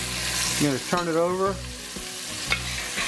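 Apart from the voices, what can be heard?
beef browning and sizzling in a pot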